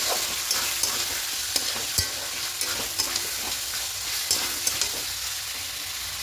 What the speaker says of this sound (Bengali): এবার দিয়ে খুব ভালো করে কষিয়ে নেব।